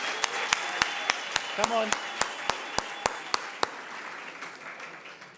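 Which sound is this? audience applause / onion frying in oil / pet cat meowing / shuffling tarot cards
audience applause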